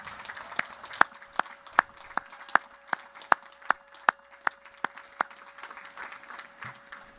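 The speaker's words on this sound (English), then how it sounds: "give them a huge round of applause to celebrate all they have" Slow, evenly spaced loud claps ring out one after another over a steady tone at a US Naval Academy graduation ceremony, sparse rhythmic clapping rather than dense crowd applause.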